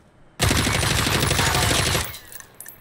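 Video-game gunfire fired from the hip on Xbox One/PS4: one loud, sustained automatic burst of rapid shots lasting about a second and a half, then a sudden stop and a few faint clicks.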